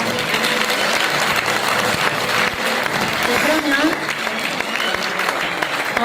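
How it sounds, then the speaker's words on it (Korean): Steady crowd applause at a Korean civic rally as guests are welcomed onto the stage, dense clapping throughout with a voice speaking briefly over it. "여러분 박수로 맞아주시기 바랍니다"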